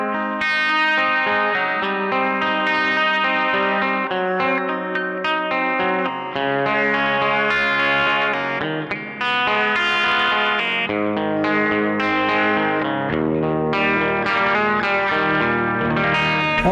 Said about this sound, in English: Then you have vibrato, which basically raises and lowers the pitch of your sound. Kind of makes the guitar sound out of tune.